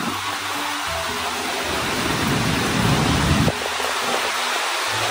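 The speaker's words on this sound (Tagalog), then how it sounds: "Ayan, unti-unti na pong pumapatak ang ulan." Steady, dense hiss of rain beginning to fall amid strong rushing wind from a typhoon, loud and broadband throughout, with no voices.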